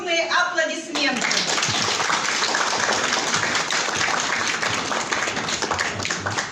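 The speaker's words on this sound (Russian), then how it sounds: "Под ваши бурные аплодисменты." A concert audience breaks into vigorous applause at a Russian folk instrument orchestra trio performance. Loud, dense clapping starts after a short spoken introduction and stays steady to the end.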